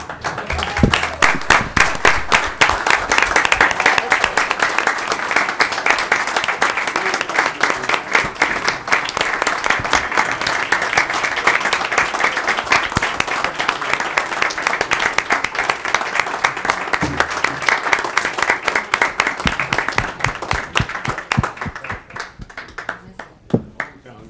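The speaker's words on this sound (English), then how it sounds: "You may all applaud now." Audience at a December 2012 city council meeting breaks into sustained, loud applause for an honored officer, dense clapping lasting about twenty seconds before thinning out and fading, with a few voices underneath.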